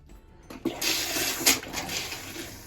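Camper toilet flushed with pink antifreeze during winterizing, a brief rushing gush of liquid that begins after a quiet moment and swells in short surges before trailing off.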